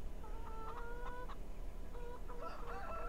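Chickens cluck in the farm video game Farming Simulator 17, a few short, clear clucking calls in bursts against a quiet, steady ambient hum of crickets.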